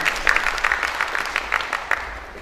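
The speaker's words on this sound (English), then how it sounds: "A big round of applause for Professor Prasad." An audience at a university inaugural session claps for a professor, a short burst of steady applause that fills the hall and fades toward the end.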